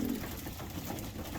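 Pigeons coo softly inside a loft housing cockbirds and hens: a short, low, steady cooing close by, with no talk.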